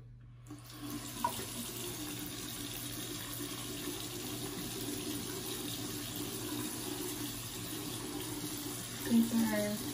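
Water running steadily from a faucet into a sink while makeup sponges are cleaned with a bar of soap, a constant hiss and splash throughout, with a brief clunk near the start and some handling noise near the end.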